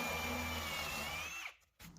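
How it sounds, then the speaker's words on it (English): A power drill whines steadily while boring out wooden plugs, its motor pitch sliding down as it winds off, then a brief silence before the motor hum returns. "now I'm drilling out all of my plugs"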